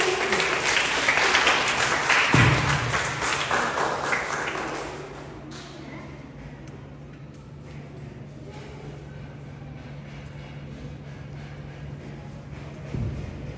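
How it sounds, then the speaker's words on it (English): An audience claps for a student at a school reading competition: dense, loud applause for about four seconds that fades out, leaving a quiet room with a faint hum and a few stray taps. "Clapping for Umair."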